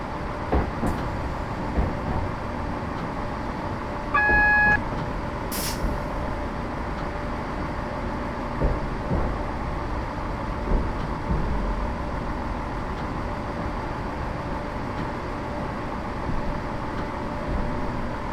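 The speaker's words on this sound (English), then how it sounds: "I'm now just going to allow the train to crawl towards the signal" A Class 170 diesel train creeping slowly toward a signal in Train Simulator 2015, a low steady engine and rolling rumble with a brief hiss and a couple of short tonal beeps near the start, no voices.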